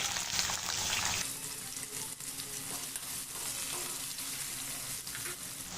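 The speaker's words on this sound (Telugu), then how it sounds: "1 టీ స్పూన్ అంత జీలకర్ర ఆవాలు వేసేసుకొని దీంట్లో ఫస్ట్ మనము ఒక పెద్ద క్యారెట్ ముక్కలను వేసుకోవాలి" Carrot pieces dropped into hot oil with cumin and mustard seeds for a Bombay chutney set off a loud, steady sizzle that eases slightly after the first second and then crackles on evenly, with no voices.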